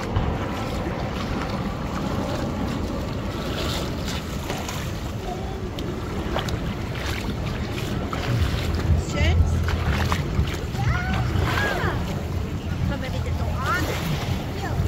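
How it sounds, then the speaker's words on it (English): Open seaside water at Sharm El-Sheikh, Egypt, with a steady wash of waves and wind noise on the microphone, continuous and fairly loud throughout, a faint voice or two in the background. "the lovely noise of water,"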